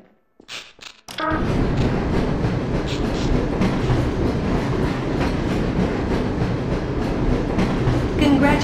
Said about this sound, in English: Press your forward and backward keys to increase or decrease the speed of the train.